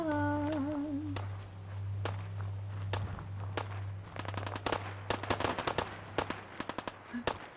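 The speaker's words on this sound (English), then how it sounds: "I hear guns." Gunfire in a Fallout video game: after a few tonal game sounds, a burst of sharp shots crackles in rapid clusters, some quick and rattling, at mid distance over a low steady hum.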